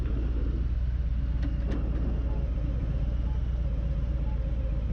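A 2021 Harley-Davidson Fat Boy being ridden, its engine a steady low rumble that holds constant throughout with wind noise and no voices.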